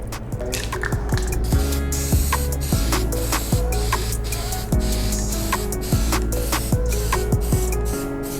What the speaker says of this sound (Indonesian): berikutnya kita semprot yang brand A ya.